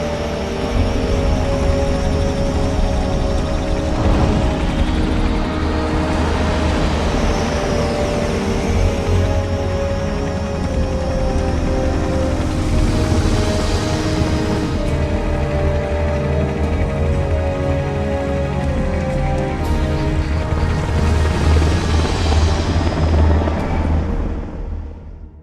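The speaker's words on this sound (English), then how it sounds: "what's a Russian gunship doing here?" Russian gunship helicopter in the video game Metal Gear Solid, a continuous loud rotor rumble and whine with slow swells in intensity, steady throughout without speech.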